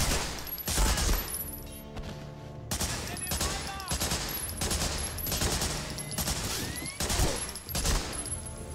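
A machine gun fires in short, rapid bursts in the World War II game Medal of Honor: Frontline, with several loud rattling volleys separated by brief pauses.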